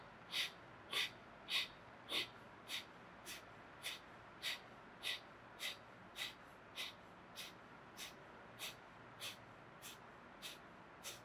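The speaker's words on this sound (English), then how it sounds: "Inhale through your nostrils." Steady yoga breathing through the nostrils: a series of about nineteen short, sharp sniffing inhalations at an even rhythm, close and moderately quiet, with no talking.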